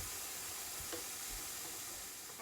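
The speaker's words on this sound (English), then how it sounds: "while I was cooking the bacon" Bacon frying in a pan gives a constant close crackling sizzle with a few faint pops, heard alone without talk.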